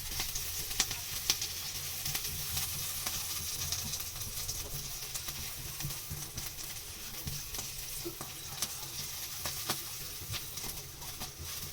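Chopped garlic sizzling in a frying pan with mushrooms, a soft, steady frying crackle with occasional stirring clicks and scrapes, faint and fairly distant, with no talking.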